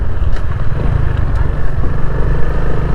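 Steady low engine rumble of a Honda XRM 125 FI motorcycle on the move, continuous and fairly loud, with wind noise and a faint voice underneath.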